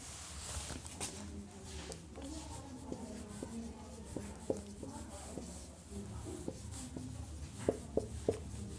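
Chalk or marker writing on a board during a physics lecture, faint scratchy strokes and light taps in short bursts against a quiet room.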